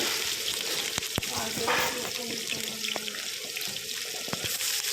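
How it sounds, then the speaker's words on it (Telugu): Chopped onions frying in a pan with curry leaves for a Srikakulam-style potato fry, giving a steady close sizzle with soft clinks and scrapes of stirring throughout. "ఆనియన్ అయితే వేసుకున్నాము ఆనియన్ అనేది కొంచెం బాగా వేగాలండి"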